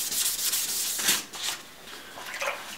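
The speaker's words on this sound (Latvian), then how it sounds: "Galvenais slīpējot slapjiem smilšpīriem" A car headlight is wet-sanded by hand with sandpaper, giving a steady, hissing scrub with surging back-and-forth strokes. It is close and continuous, with no talk.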